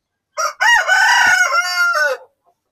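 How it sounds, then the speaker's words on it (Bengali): Desi chickens on a farm: a single loud, close rooster crow with a strained, drawn-out cock-a-doodle-doo lasting nearly two seconds, with no talk. "এটা হচ্ছে দেশি মুরগির একটা সেট আপ"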